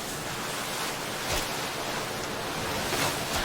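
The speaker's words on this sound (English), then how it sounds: "that water sound effect is still playing" A looping water sound effect from a Magic: The Gathering video game plays as a steady, broad wash of surf-like noise, fairly loud and continuous with slight swells, and no talking.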